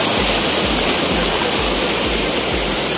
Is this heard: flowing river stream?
yes